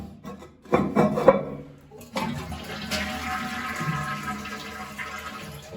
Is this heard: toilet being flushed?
yes